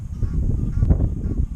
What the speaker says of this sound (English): We've got 2 noisy Egyptian geese